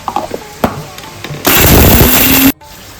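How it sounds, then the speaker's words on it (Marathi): Roasted masala is ground in a kitchen mixer grinder, with a loud close motor whir that starts abruptly, runs for about a second and stops, after some clattering handling sounds. "भाजलेला मसाला मी मिक्सरमध्ये वाटून"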